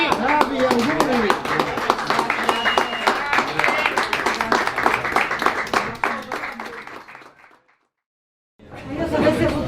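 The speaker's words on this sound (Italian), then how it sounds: "Applausi. Bravi, auguri." Clapping from an audience at an Italian gathering, dense and continuous for several seconds, fading to silence before picking up again, with some chatter mixed in.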